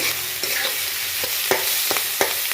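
Onions frying in a pan for a kalara and coconut dish, with steady close sizzling broken by several sharp scraping stirs of a spoon against the pan.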